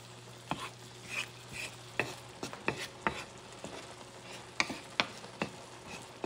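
Sardines simmer in tomato sauce in a pan, with a soft steady sizzle under repeated spoon clicks and scrapes against the pan, close and fairly quiet.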